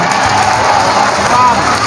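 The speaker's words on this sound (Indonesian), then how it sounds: "Mantap, tepuk tangan dong." Audience applause during an Islamic religious talk about the Prophet: a brief, loud wash of many hands clapping together with crowd noise and some voices mixed in.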